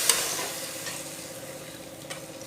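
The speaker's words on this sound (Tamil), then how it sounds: "இது நல்லா கொதிக்கட்டுங்க." Sambar with tamarind water simmering in a pan, a soft steady bubbling and faint sizzle with an occasional tiny pop, heard close and without voices.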